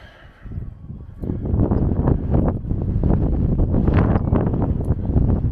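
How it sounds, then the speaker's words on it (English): Strong coastal wind at Whitby buffets the microphone in loud, rumbling gusts that start after a quieter second and stay heavy to the end. "It's fucking windy."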